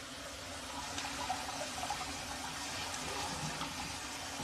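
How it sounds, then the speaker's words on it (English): Cold tap water runs steadily over food being rinsed at home for Korean BBQ side dishes, a continuous close splashing gush with no talk. "I'm going to rinse in a cold water."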